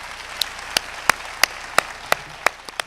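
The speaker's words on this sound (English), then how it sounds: "Please join me for a final round of applause for Kathleen Cleaver" A handful of sparse, evenly spaced claps at a commemorative lecture honoring Kathleen Cleaver, with about nine sharp hand claps over a quiet room tone and no full crowd swell.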